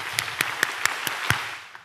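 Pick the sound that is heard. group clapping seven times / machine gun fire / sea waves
group clapping seven times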